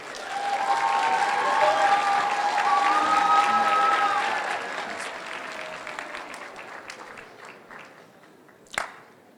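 A crowd at an eighth grade promotion ceremony applauds a graduating group, the clapping strong for several seconds and then thinning out. A sustained tone rings over the first half, and one sharp knock comes near the end.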